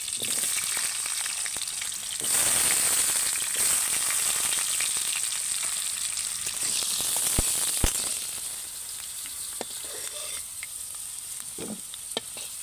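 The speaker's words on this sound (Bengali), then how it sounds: "এবার ওই তেলের মধ্যে কিন্তু আমি আলুগুলোকেও ভেজে নেব" Small potato pieces fry in hot oil, a steady bright sizzle with occasional stirring clicks and scrapes, growing slightly louder early on and then settling into a quieter, even hiss.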